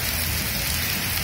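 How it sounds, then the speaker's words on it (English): Steady rain falling on a day out, a dense continuous patter and hiss that stays even and fairly loud for the whole short stretch, with no voices. "So it's raining today,"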